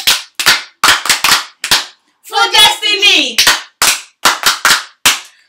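Audience applause for a singer at a live Yoruba Stars show, with several short bursts of sharp, close clapping separated by pauses and a voice speaking briefly in the middle.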